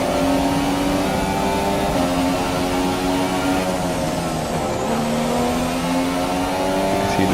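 Formula 1 race cars on the long straight at the China circuit in F1 2017, a loud, continuous high-pitched engine whine with shifting tones as cars pass, close and steady with no talk.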